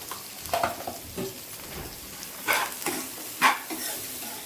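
Tender tamarind leaf and egg curry stirred in a frying pan, with a soft sizzle underneath and several distinct scraping strokes of a spatula, fairly close and moderately quiet.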